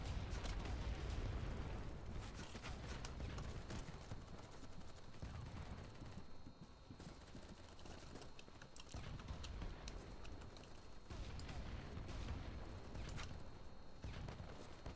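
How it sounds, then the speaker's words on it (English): Video game battle gunfire crackles in dense bursts of shots with rising and falling intensity, fairly loud and continuous, with no speech over the noise. "Where's that gunfire coming from?"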